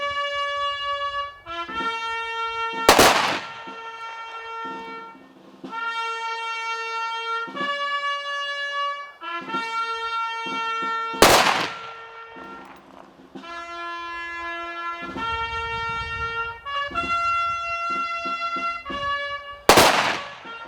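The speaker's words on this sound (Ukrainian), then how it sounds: "на знак пошани пролунали три постріли у повітря" Three sharp gunshots fired into the air as a funeral honour ring out at wide intervals amid brass band music playing sustained chords, each blast loud and sudden against the steady melody.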